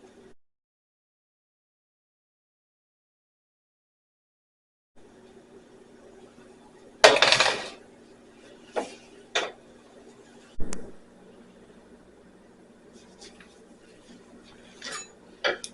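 Cooked beans are taken out of a pot after a long quiet stretch, producing a few sharp metallic clanks and scrapes of a spoon against the pot, spaced irregularly, with soft rattles between them.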